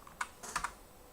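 A few quiet keystrokes on a computer keyboard, about four soft clicks within a second, close but faint, with no other sound.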